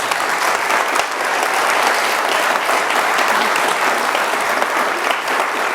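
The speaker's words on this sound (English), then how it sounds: "So I think we should all give ourselves a clap." Sustained audience applause at a Labour Party campaigning speech, a dense, steady wash of many hands clapping filling the room for several seconds without a break.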